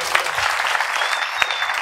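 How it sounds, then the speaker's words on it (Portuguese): Crowd applause at a hip hop battle event, steady dense clapping filling the clip, loud and continuous with no clear break. "Uma salva de palmas pra Tayane."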